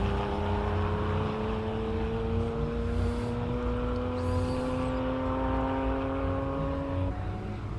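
A classic Porsche race car accelerates up the Simola hillclimb course in 2025, one loud, close, sustained engine note climbing steadily in pitch for about seven seconds before a brief throttle lift at the end.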